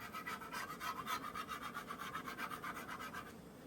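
A seasoned pan being scraped while water boils in it at an off-grid campsite, heard as a faint, steady rhythmic rasping scrape repeating back and forth with no talk.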